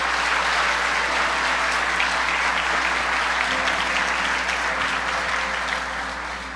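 Congregation applause during a church sermon, steady dense clapping that fills the room at a constant loud level and eases off slightly at the end.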